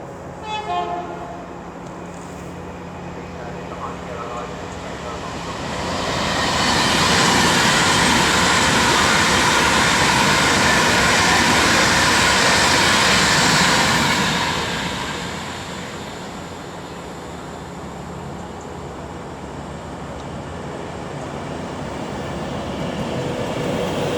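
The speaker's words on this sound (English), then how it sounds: "390 118 with the 1127 Avanti West Coast service from Liverpool Lime Street to London Euston, running about 5 minutes late" An Avanti West Coast Class 390 Pendolino, unit 390118 on the Liverpool Lime Street to London Euston service, passes through Milton Keynes Central on the West Coast Main Line with a swelling, roaring rush that peaks near the listener and fades.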